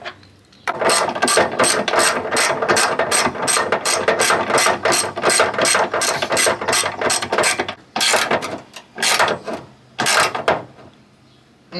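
Ratchet wrench with a 10 mm socket snugging down the antifreeze tank bolts on a Chevy S10, a long run of rapid, loud, close clicking strokes, then a few shorter bursts after brief pauses.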